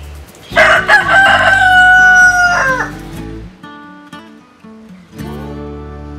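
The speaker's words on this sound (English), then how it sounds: "The rooster that drove us crazy." A rooster in Fiji crows loudly and close by in one long drawn-out call, followed by softer clucking and bird sounds.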